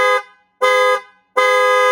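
Three evenly spaced, loud honks from a passenger car horn, each about a third of a second long and cleanly separated by short silences, with nothing else heard.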